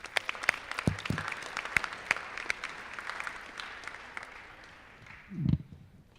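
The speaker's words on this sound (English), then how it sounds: "Let's have another round of applause for our singers" An audience at a high school honor society induction ceremony claps steadily in a sustained round of applause for singers, the sharp hand claps blending into a continuous patter that slowly thins out.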